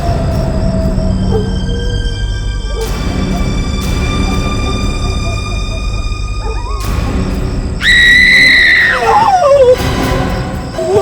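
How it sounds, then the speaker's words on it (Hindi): A woman's high, piercing scream cuts in near the end of a tense crime drama scene, gliding up and then down for over a second above a steady, eerie musical drone. "वो चीखने की आवाज।"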